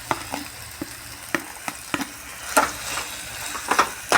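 Chicken stir-fried in a pan with ginger, garlic, onion and ground black pepper sizzles under repeated scraping spatula strokes, with louder stirring bursts toward the end and no voices.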